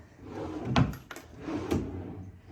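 A drawer in a hotel room slides open and then shuts, two close wooden scrapes with a soft thump, fairly quiet in a still room.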